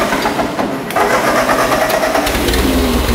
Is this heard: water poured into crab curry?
no